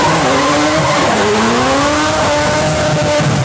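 A loud four-rotor rotary engine car revving and wailing past at speed, its whining pitch rising and falling, with a faint tire squeal.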